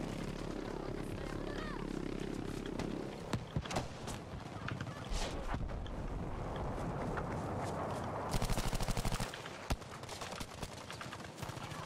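Semi-automatic rifle in the video game Battlefield V firing in a jungle setting on the Solomon Islands, scattered sharp shots in uneven bursts, with a denser volley near the end over constant battle ambience and a voice talking now and then.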